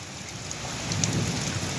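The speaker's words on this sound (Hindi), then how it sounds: "बहुत तेज़ है बारिश" Heavy stormy rain pours steadily on a goat farm, a dense close wash of drops with low rumbling thunder swelling underneath toward the end, no voices.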